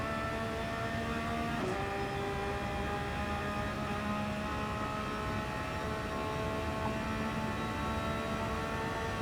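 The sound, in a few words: Porsche Cup race car driving down the back straight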